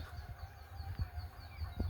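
Chickens cluck in short, irregular bursts close by in a village, over a steady low rumble of background noise.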